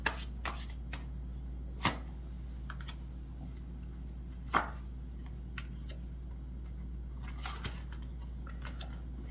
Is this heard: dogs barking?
no